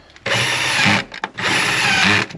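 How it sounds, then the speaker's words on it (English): Power driver running screws in during a BMW trailer hitch installation: two loud, close whirring bursts of about a second each, separated by a short pause, with no talking. "now we'll put your 3 screws in"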